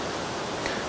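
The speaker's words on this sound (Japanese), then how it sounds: "この雨もですね、もう本当いい感じの雨、こうしとしとと降るような感じで" Light, steady rain falling at a campsite on a cold day, a soft continuous patter that fills the air, close and even, with no voices.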